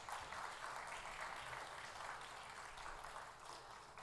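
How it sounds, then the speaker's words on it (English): Faint, steady applause from an audience honouring a dance group at a moot court competition closing ceremony in Sri Lanka, an even patter of many hands sustained throughout and heard from a distance. "Ladies and gentlemen, can we give that dance group a huge round of applause?"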